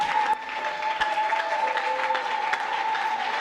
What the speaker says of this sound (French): C'est par des acclamations que nous accueillons cette disparition.